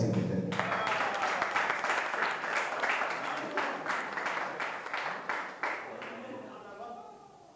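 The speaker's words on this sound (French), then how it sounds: "sur vos acclamations, s'il vous plaît" An audience at a press conference breaks into loud, sustained applause, a dense wash of clapping that slowly fades out over several seconds.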